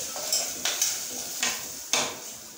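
Corn kernels being stirred in hot oil with turmeric and salt for popcorn, a soft sizzle under several sharp spoon scrapes and clinks against the pan.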